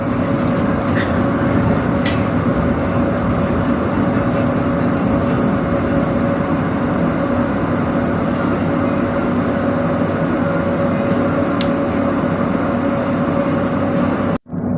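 A train stopped at Klaten station in Indonesia, an executive express on the Jogja–Surabaya route, sits at the platform. A steady, fairly loud rumble of idling machinery and station ambience carries on without break, with no voices.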